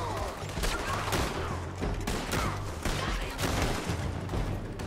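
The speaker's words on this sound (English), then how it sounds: "I'm shooting the bastards" Rapid gunfire in the Red Dead Redemption 2 video game, a dense volley of loud shots and booms running continuously with a low musical drone underneath.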